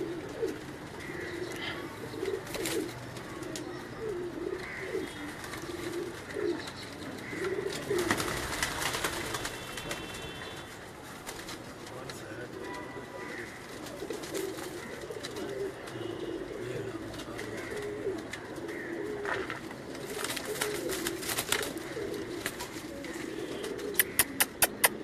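Pigeons coo softly and repeatedly nearby on a rooftop in Lahore, low throaty rolls overlapping through a steady outdoor background, with a few brief rustles and clicks.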